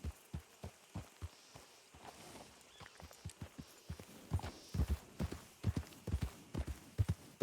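Steady clip-clop of horse hooves walking at a regular pace in a video game, fairly close, with a faint ambient bed and no talking.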